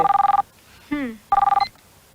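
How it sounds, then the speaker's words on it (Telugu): An electronic telephone rings in two quick bursts of rapidly pulsing tones, loud and close, with a brief voice-like sweep in the gap between them, in a film scene. "ఫాస్ట్ గా ఫోన్ ఎత్తు"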